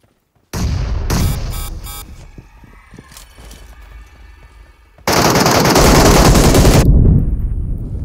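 Automatic gunfire and grenade blasts in PUBG Mobile: a sustained loud burst of rapid shots that tapers off into scattered fire, then a second dense, roaring burst of shooting, with no talk.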